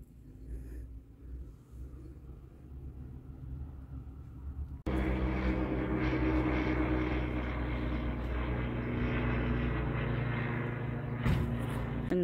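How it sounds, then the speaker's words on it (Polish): An airplane passes overhead above a spring flower garden plot. A steady, broad engine rumble swells abruptly about five seconds in and holds loud and even to the end. "Nagrywam vloga, to oczywiście samolot tradycyjnie musi lecieć nad naszym niebem."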